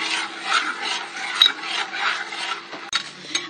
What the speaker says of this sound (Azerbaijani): Yarım xörək qaşığına qədər ərinməmiş kərə yağını indi hazırladığım şokoladın içərisinə əlavə qarışdırıram.